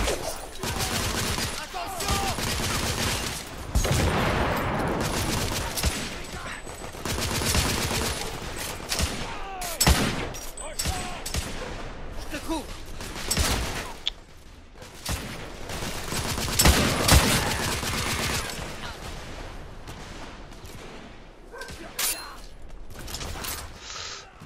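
Sustained volleys of gunfire crack and rattle in The Order: 1886, with bursts of automatic fire, single shots and mechanical clanks that rise and fall across the firefight.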